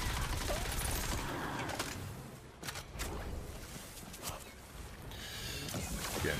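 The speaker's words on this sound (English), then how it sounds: "Pretty cool SMG as well." Very fast-firing SMG bursts in a video game, a dense rapid rattle that runs through most of the stretch with a few louder isolated hits, no talking over it.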